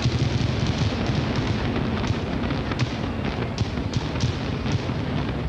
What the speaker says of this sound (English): test shots. Again, of the fireworks.